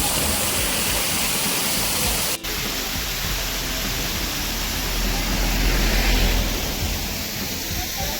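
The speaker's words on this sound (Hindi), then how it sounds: "अभी हम सिस्सू के रास्ते में हैं और ये हमें वाटरफॉल मिला है" Roadside waterfall on the route to Sissu in Lahaul, among snowy mountains, roaring as a loud, unbroken rush of falling water that fills the whole stretch, with one brief dropout partway through.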